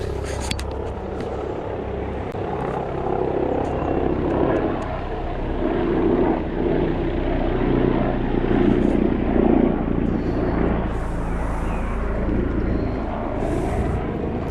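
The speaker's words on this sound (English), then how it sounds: "Very powerful sounding heli." An orange AW169 helicopter hovers low nearby, its turbine engine and rotors producing a loud, steady, powerful roar with rhythmic blade chop that swells slightly, heard alone without talk.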